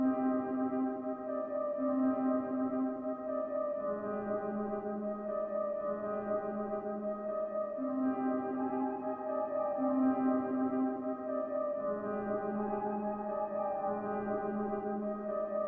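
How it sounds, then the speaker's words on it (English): A soft, sustained melody from a Glass Piano preset in a Labs software instrument plays alone, with bell-like chiming tones gently shifting between notes at an even pace, quiet and smooth throughout. "For this melody I used this Glass Piano library and I used this preset right here"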